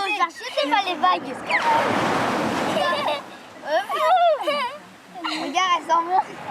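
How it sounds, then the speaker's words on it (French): Surf on a beach in New Caledonia, a broad wash of breaking waves swelling and receding between stretches of close talk, with wind buffeting the microphone. "Les vagues."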